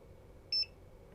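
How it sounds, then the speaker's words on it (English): A Godox DPiiiV studio strobe gives one short, high electronic beep when its button is pressed, heard alone over a quiet room hum. "I have the beep enabled, which is annoying"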